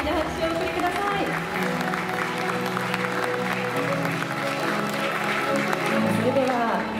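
An audience claps for an award winner at the Miss World Japan Kyoto 2022 ceremony, a steady wash of applause over loud music throughout.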